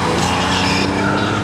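A Porsche Carrera 3.2 race car launches from the start line of a historic hill climb, with a loud, close engine roar and a hint of tyre scrabble in one short, sustained burst.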